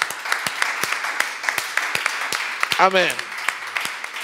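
A church congregation claps during worship, irregular sharp claps spread across the whole stretch while a voice speaks and briefly sings over them.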